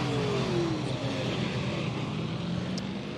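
NASCAR Truck Series truck at Kansas Speedway pulling away from pit road, a continuous engine drone with rising pitch under broad track noise, moderately loud and steady throughout, with no talking.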